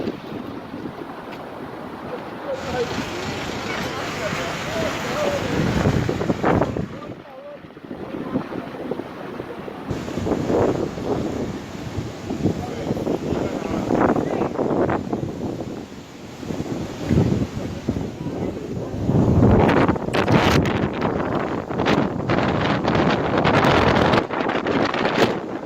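Strong wind blowing hard across the microphone by the sea, a continuous gusting rumble with surf in the background that swells and eases over nearly half a minute, loud and close.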